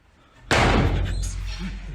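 A door slams hard in a dilapidated house, a sudden loud bang that jumps out of near silence and leaves a sustained rumbling wash of reverberant noise behind it.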